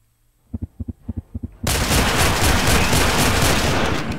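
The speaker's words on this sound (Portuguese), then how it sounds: "eu acho que eu dei um tiro perdido e o tiro pegou em mim também" A burst of gunfire in the survival RPG Survivalist: Invisible Strain, preceded by several soft, evenly spaced low thumps, then a sudden, loud, sustained blast of noise that keeps roaring to the end.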